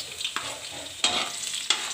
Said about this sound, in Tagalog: Ayan, ilalagay natin yung bawang. Gisahin natin yung bawang.